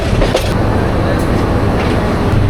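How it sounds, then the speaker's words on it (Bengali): The Bijoy Express train pulls out of Mymensingh railway station, giving off a loud, continuous rolling rumble with faint clatter throughout. "বিজয় এক্সপ্রেস ট্রেন ছেড়ে চলে যাচ্ছে ময়মনসিং রেলওয়ে স্টেশন"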